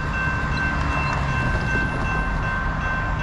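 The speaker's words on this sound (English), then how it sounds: "We got another westbound. It's like 6:30 in the morning. Second train of the day." A Norfolk Southern westbound freight train hauled by AC44C6M locomotives rumbles past at dawn, moving slowly, with a steady loud drone of engines and rolling cars and no voices.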